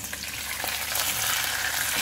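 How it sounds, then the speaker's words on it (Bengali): Fish fries in hot oil in a home kitchen, a continuous, close crackling sizzle that holds steady from start to finish with no talking. "এখন আমি দেখছি আমার মাছটা ভাজা হয়েছে কিনা।"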